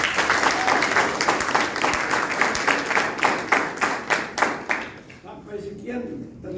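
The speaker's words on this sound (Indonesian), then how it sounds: "Tepuk tangan dulu" Audience in a church service claps steadily and densely for several seconds, then the applause thins out and fades, leaving faint room noise at the end.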